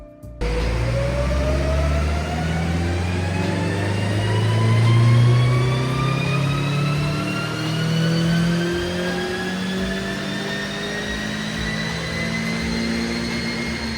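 Mazda Miata fitted with BMW S1000R individual throttle bodies on a dyno, the engine pulling a long, loud, steady rising run with climbing pitch over about thirteen seconds, no talking.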